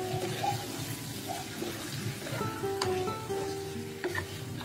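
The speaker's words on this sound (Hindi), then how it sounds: "इस चिकन को हम चलाते हुए 2 मिनट और भून लेंगे।" Chicken pieces frying in a pan while being stirred for hotel-style chicken curry, a close, even sizzle with light scrapes and clinks of the spoon.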